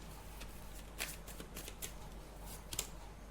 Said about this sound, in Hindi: एक कार्ड लेते हैं